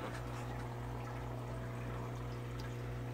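Water from a low-flow pump runs through a cichlid aquarium sump with a trigger system, a soft continuous pouring and trickling over a steady low mechanical hum, faint and unbroken.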